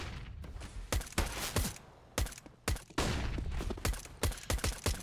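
Pistols fire in the opening pistol round of a professional Counter-Strike match on Mirage, with sharp single shots and short bursts rattling off irregularly and close.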